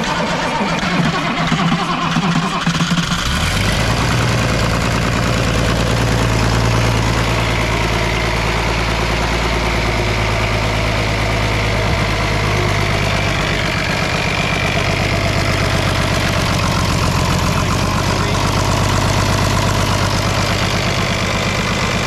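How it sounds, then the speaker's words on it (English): An Oliver Super 88 tractor's diesel engine starts and settles into a steady, loud idle with a heavy low knocking throb that continues close by and unbroken. "First time you probably heard this engine in a long time."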